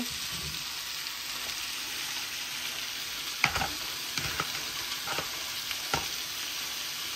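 Onions fry in a pan of browned carrots with a steady low sizzle, broken by several sharp scrapes and clinks as a utensil stirs them. The sounds are close and quiet, with no speech.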